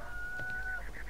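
A rooster in a Sherlock Holmes video game lets out a short cluck, a brief burst with a thin tonal whistle under it, heard alone over a low hum.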